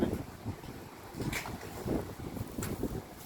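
Gusty outdoor wind on an autumn day in Korea buffets the microphone in uneven low rumbling bursts, fairly faint with irregular swells and lulls.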